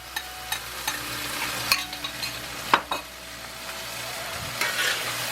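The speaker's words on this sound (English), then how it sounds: "Stir fry this whole mess up." Shrimp and broccoli stir-fried in a hot pan with ginger garlic sauce, a steady sizzle broken by repeated scraping and clinking of a utensil against the pan, close up with no talking.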